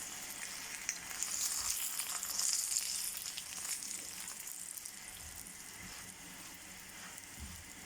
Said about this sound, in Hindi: अब मैं घी डालने लगी हूँ, थोड़ा सा ही डालें